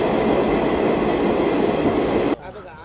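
Steady loud rumble of a train running, heard from inside a sleeper coach, a dense continuous roar that cuts off abruptly to near quiet near the end.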